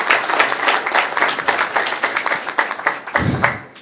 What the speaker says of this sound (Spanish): Damos un aplauso, muchas gracias.